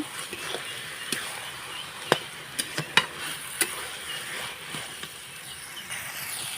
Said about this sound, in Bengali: এবার আমি এই যে ভেজে রেখেছিলাম সেই চিংড়ি মাছগুলো কিন্তু এখন আমি দিয়ে নিচ্ছি দিয়ে এবার ভালোভাবে নাড়াচাড়া করে নেব